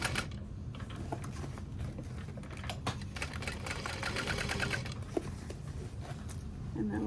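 A sewing machine back stitching over a thick backpack strap connector, running steadily with a rapid mechanical patter throughout, fairly quiet and close, with a voice talking faintly underneath.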